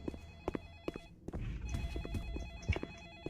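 Telephone ringing in the Roblox game Ice Cream, repeated electronic ring bursts at a steady rhythm, with a clatter of game noises and footsteps in between.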